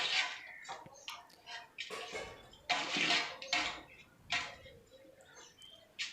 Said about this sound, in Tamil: கரண்டி வச்சு நல்லா கிளறி விட்டுக்கோங்க